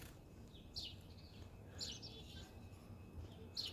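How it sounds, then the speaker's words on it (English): Songbirds such as robins, grackles and chickadees chirp in short, high bursts about once a second apart, three faint calls over a steady low background hum. "I usually get a lot of birds now"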